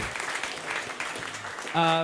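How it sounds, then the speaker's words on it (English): Brief audience applause for the organisers of a candidates' election evening, a steady wash of clapping that is cut off by a short tonal sound at the end. "Can we get another round of applause, because they're the people who are organising this tonight."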